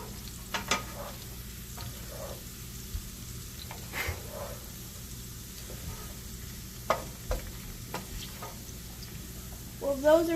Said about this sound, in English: I'm just kind of stirring it around so none of them get too brown